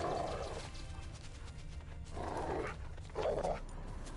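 A dog barks in The Witcher 3 game, three gruff barks with pauses between them, set over a low steady game backdrop.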